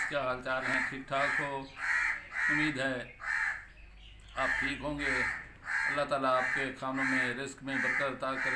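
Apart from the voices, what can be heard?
crows cawing on the rooftop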